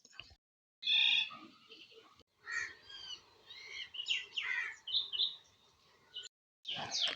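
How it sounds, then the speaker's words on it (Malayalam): Several birds call and chirp nearby in short bright bursts, with brief pauses between phrases, in an otherwise quiet setting beside the Perandoor canal. "ആകെയുള്ള ശബ്ദം ഈ പക്ഷികൾ ഉണ്ടാക്കുന്ന ശബ്ദം മാത്രമാണ്"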